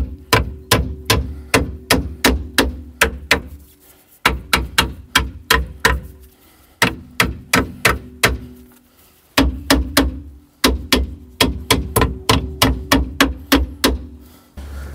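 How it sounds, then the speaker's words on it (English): Sharp hammer taps strike a wheel on a barn-find 1993 Ford Escort Mk3 to free it for brake work. Loud, close blows come in quick rhythmic bursts of about six to eight, with short pauses between groups. "A few taps with the hammer."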